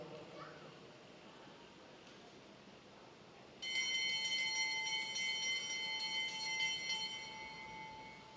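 A bell rung for the final lap of a junior cycling race at an evening track session starts suddenly partway through and keeps ringing in a steady, bright, repeated clang over crowd ambience and talk.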